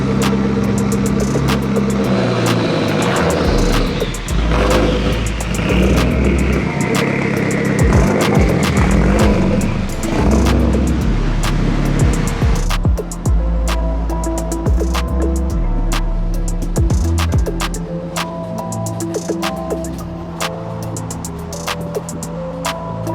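A Toyota JZX100 Chaser drift car engine rumbling and revving while driving along a street, loud and close with fluctuating pitch, settling to a steadier drone later on.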